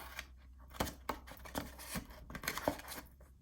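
Paper cut with scissors for a junk-journal mini album, a handful of crisp snips and rustles at an uneven pace, close by and fairly quiet.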